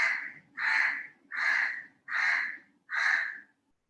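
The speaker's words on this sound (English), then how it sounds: "I think a crow has come to listen to the story." A crow caws five times in an even, regular rhythm, each call loud and clear against an otherwise quiet outdoor background, then falls silent.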